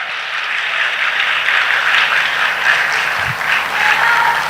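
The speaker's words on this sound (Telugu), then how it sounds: "ఒక్కసారి గట్టిగా చప్పట్లు కొట్టండి" A crowd at a motivational talk claps steadily for several seconds. The dense applause holds at an even level, with a faint low thump partway through.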